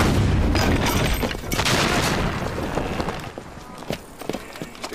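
A ship's cannon fires aboard a period naval vessel, a loud booming blast followed by a long rumbling roar and clatter that slowly fades.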